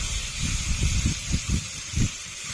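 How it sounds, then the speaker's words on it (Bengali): Ginger and garlic paste frying in a pan for a prawn and jackfruit curry, a steady sizzling hiss with soft bubbling pops underneath, close and continuous. "আদা ও রসুন দিয়ে কিছুক্ষণ ভেজে নেব।"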